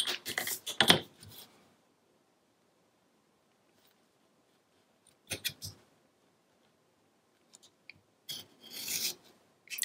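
A blade slices through patterned scrapbook paper guided along a ruler, giving three separate bursts of rasping cuts with quiet gaps between them, close and fairly soft.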